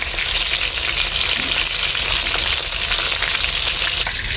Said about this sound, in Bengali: কিছু গোছ ভাজা হইতেছে।